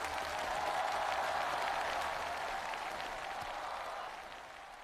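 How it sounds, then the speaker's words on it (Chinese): A crowd applauding and cheering for two race drivers at the finish of a race, a steady wash of clapping that tapers off slightly toward the end. "现场的欢呼声和掌声送给我们的2位车手"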